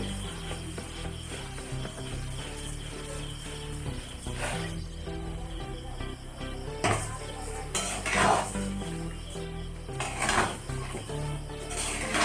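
Mango pickle being cooked down with sugar in a pan over a gas flame, the spoon scraping and clinking against the metal in irregular bursts over a steady background bed, with a few louder clatters spread throughout.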